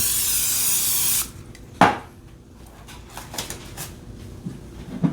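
Cooking spray hisses steadily onto chopped potatoes for just over a second, then a sharp knock and quiet clinks of pans and utensils follow.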